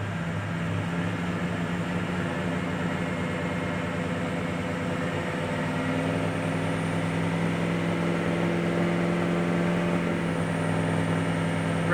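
A 2006 Ford 6.0 Powerstroke diesel engine runs rough at around 2000 RPM, with a steady loud droning rumble that holds evenly throughout.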